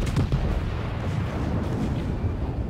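Heavy battleship main battery gunfire in the game World of Warships, a dense rumbling barrage of deep booms from a Friedrich der Große, loud and continuous with no voices over it.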